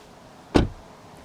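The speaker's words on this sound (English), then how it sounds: "You just touch it, and there it opens in a mechanical way." A single short mechanical clunk as a Mercedes C-Class car door handle releases the latch, close by in otherwise quiet surroundings.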